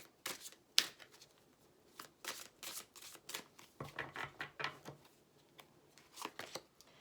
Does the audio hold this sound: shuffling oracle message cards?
yes